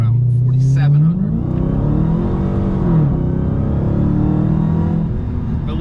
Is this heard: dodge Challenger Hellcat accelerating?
yes